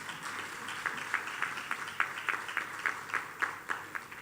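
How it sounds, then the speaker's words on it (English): Audience at a teachers' association annual conference clapping, fairly faint and distant, with distinct individual claps standing out at a loose rhythm over a softer wash of applause. "Can we give them all a big round of applause?"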